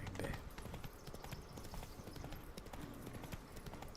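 Horse hooves clip-clop steadily in The Witcher 3: Wild Hunt, a continuous rhythmic trot under game ambience with faint background sounds.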